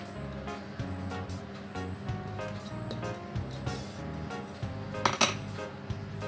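Potatoes are mashed and mixed with other ingredients in a bowl, with scraping, clinking utensil knocks against the bowl and irregular taps at close range, some louder clanks near the end.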